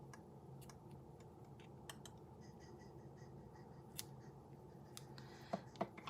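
Scissors make quiet, scattered snips and ticks as they trim paper tails at a card-making table. The cuts are faint and close, with a few sharper clicks near the end.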